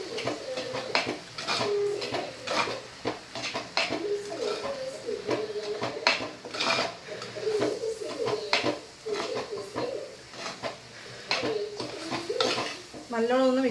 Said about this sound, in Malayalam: നല്ലോണം ഒന്ന് മിക്സ് ചെയ്ത് കൊടുക്കാം